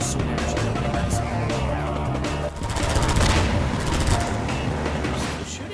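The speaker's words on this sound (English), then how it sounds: "You're shooting at me, persistent bastard," Dense gunfire in the video game Half-Life 2 crackles with rapid overlapping shots over a constant loud rumble of combat noise for the whole stretch, swelling slightly midway.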